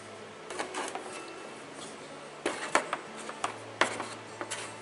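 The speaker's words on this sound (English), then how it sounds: "we're going to take our compression tester adapter, M14 short, and we're going to screw that right down in the spark plug hole" A short M14 compression tester adapter is threaded by hand into the spark plug hole of a John Deere 6X4 Gator, giving faint irregular metallic clicks and scrapes in small clusters, close and quiet.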